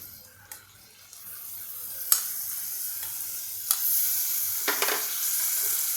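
Chopped onion and tomato go into a pressure cooker with cabbage for pav bhaji and are stirred, a soft hiss swelling into a sizzle. A few sharp utensil knocks sound close by, with no voices.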